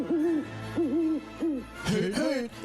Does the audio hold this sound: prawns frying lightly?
no